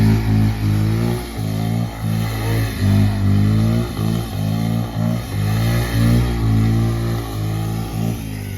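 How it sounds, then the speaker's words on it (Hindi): A motorcycle engine revs off-road in repeated pulses, surging and dropping every second or so, loud and close, with no voices over it. "सागर भाई को बाइक चलाने के लिए दे दिया है।"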